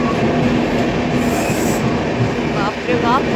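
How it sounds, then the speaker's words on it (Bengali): A train rolls into Tarapith station on a cold night, a loud, continuous rumble of wagons with clattering wheels and brief squeals near the end, heard up close. "ট্রেন তো আমাদের তারাপীঠে ঢুকেই গেছে।"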